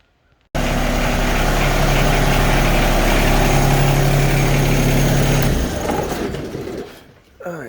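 A Yanmar SA324 compact tractor engine idles loudly up close to warm up, a steady low diesel drone with a constant hum that drops off near the end.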